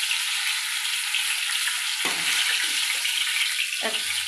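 Puris fry in hot oil with a loud, steady, close sizzle that fills the whole stretch. Two brief dips in the crackle could come from pieces being moved or lifted out.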